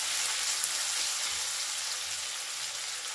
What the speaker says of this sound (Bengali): দিয়ে দিচ্ছি কুচি করে রাখা পেঁয়াজ। পেঁয়াজটা একটুখানি